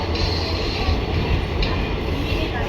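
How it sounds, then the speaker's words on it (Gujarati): A train at Botad railway station in Gujarat makes a steady, loud rumble of rolling rail cars with faint squeals over it throughout. "આ છે બોટાદનું રેલવે સ્ટેશન."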